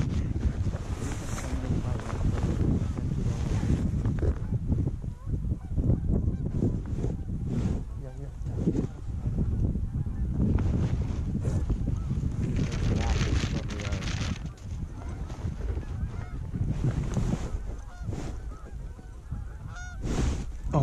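Geese honk repeatedly during a late-season Iowa goose hunt, a loose chorus of calls near and far over wind buffeting the microphone, with hunters talking quietly.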